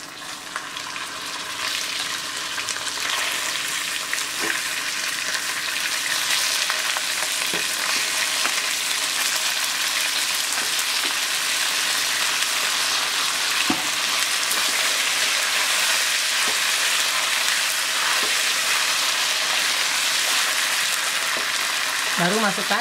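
Chicken pieces frying in a pan of hot oil with browned, dried garlic, a steady loud sizzle with occasional stirring scrapes throughout.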